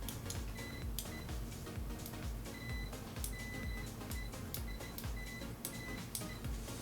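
A Southwire 12070T multimeter gives its continuity beep through stock probes, a thin tone that keeps cutting in and out, scratchy and intermittent over several seconds against faint background noise.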